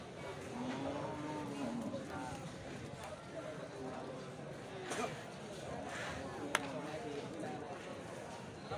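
Limousin cattle at a busy cattle market, with occasional lowing heard under steady crowd chatter and the general bustle of the livestock yard.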